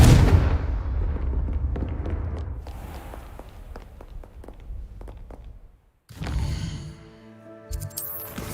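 Confringo explosion spells in Hogwarts Legacy go off as a string of sharp blasts and thuds, heavy at first, then lighter repeated cracks, a brief lull and a final burst.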